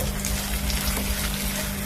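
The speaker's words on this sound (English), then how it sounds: "I'm going to go in with this egg / oil mixture" Egg and oil mixture for a noodle omelette sizzling in a frying pan, a loud continuous hissing fry with a steady low hum beneath, brief and uninterrupted.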